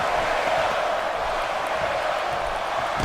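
Crowd noise from the WWE 2K16 wrestling video game, a steady roar of an arena audience holding at a constant level throughout.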